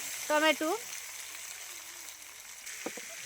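Chopped tomatoes go into hot oil with fried ginger paste for a tomato and jujube chutney, giving a steady, soft sizzling hiss throughout, with someone speaking briefly at the start.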